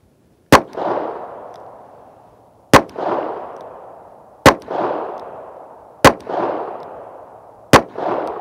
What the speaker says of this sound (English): so you can see some interesting footage with the bullets striking the plate